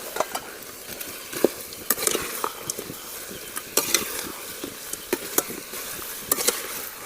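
Gobi Manchurian sauce is stirred and mixed in a sizzling pan, with irregular sharp clacks of a spoon against metal over a constant frying hiss, close and clear.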